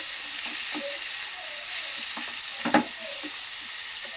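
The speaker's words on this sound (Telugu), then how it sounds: "లో ఫ్లేమ్లో మంచిగా ఫ్రై చేసుకోవాలండి. ఇట్లా ఫ్రై చేసుకోవాలి." Food frying on a low flame in a pan, with tamarind leaves among the ingredients: a steady, close sizzle with soft stirring scrapes and one sharper clatter near the end.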